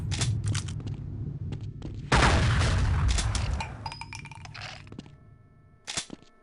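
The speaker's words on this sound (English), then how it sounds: "Very slow shotgun." Shotgun fire in a video game comes as a slow series of sharp, booming blasts, one big shot ringing out loudly near the two-second mark, with scattered cracks and clicks around it.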